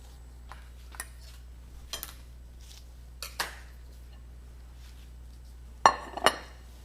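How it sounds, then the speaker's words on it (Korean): Salad being moved onto a serving plate, a few scattered clinks and taps of utensils against dishes, quiet and sparse, with two louder clustered clicks near the end. "선생님이 완성 접시에 한번 옮겨보도록 하겠습니다."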